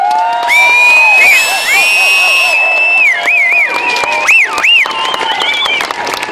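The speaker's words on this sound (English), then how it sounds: "The louder you cheer, the harder they will perform." A large outdoor crowd at an air show cheers and whoops loudly for the USAF Honor Guard Drill Team, with shouts and children's voices rising and falling over several seconds.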